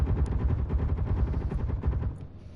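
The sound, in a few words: airship weapons firing, from a video game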